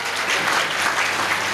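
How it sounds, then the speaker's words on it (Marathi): An audience at a kirtan bursts into dense, steady clapping, loud and close, for a short burst with no voices over it. "टाळ्या वाजवा"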